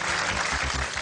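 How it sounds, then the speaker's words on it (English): A studio audience on the British game show Celebrity Millionaire breaks into a short burst of dense, steady clapping, close and loud, lasting about a second with no talk over it. "A little bit clap this time"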